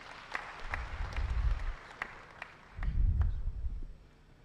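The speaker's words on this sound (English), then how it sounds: "Another round of applause for our public officers and institutions." A crowd at an awards ceremony breaks into applause in two swells, the clapping rising, fading, then rising again, moderately distant and reverberant.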